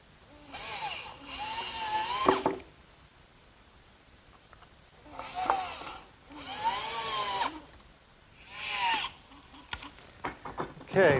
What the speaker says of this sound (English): I'm ready to set this piece in place and fasten it to the frame with some screws